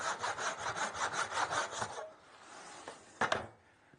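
A handsaw cuts through wood for a saddle stand in a steady run of rhythmic, rasping back-and-forth strokes that end after about two seconds, followed by quieter shuffling and a sharp knock near the end.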